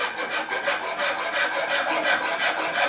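A hand rasp or file works wood along a marked line, making steady rhythmic rubbing strokes, about eight rasping passes in three seconds, close and fairly loud with nothing else heard.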